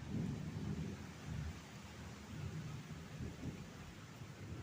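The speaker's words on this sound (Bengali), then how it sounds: "খুব মেঘ ডাকছে।" Low thunder rumbles in long, soft rolls during a rainy day, faint and distant beneath a light wash of rain, with no speech.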